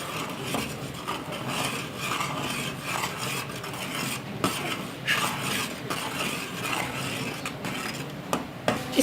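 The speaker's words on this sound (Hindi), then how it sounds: "अब हम इसमें मिल्क पाउडर डाल देते हैं, डालते जाएंगे और साथ साथ चम्मच भी हिलाते जाएंगे।" A spoon scrapes and rubs continuously through milk powder being worked into sugar syrup for homemade condensed milk, a close, busy, gritty stirring with small clinks against the pan, no voices.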